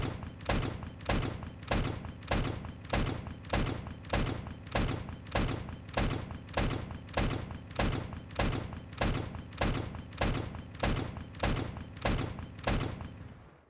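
Rapid, evenly spaced bursts of gunfire from a mounted gun in the Stormworks video game during an accuracy test, roughly twenty loud sharp shots in steady rhythm with no talk.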